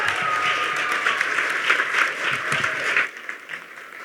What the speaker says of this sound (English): Give these young ladies a round of applause